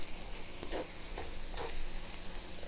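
Flour and seasonings being stirred into a roux in a skillet, a soft, steady sizzle with a couple of scraping stirs, close and with no voices.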